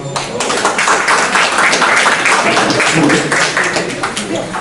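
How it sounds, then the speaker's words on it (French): Sustained audience applause at a French-language presentation, dense and loud clapping filling the whole stretch with no voices on top. "beaucoup d'applaudissements"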